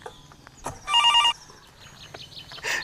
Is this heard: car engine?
no